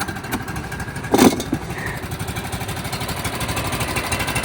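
A small engine runs steadily with a rapid, rattling putter, close and continuous, with a brief clunk near the start.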